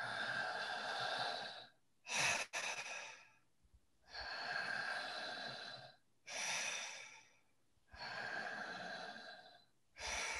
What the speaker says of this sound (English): But just keep breathing fast and full for another 10 seconds.